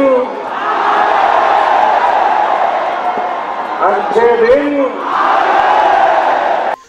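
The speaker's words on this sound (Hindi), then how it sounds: "चुनावी सभाओं में मोदी बोलते थे अच्छे दिन, और जनता पीछे से चिल्लाती थी आएंगे" A large crowd at an election rally shouts and cheers loudly and continuously, with a brief surge of bellowing voices partway through before the massed roar returns.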